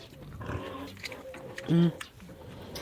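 A pig grunts and squeals briefly amid background chatter and farmyard noise, one short loud call standing out near the middle.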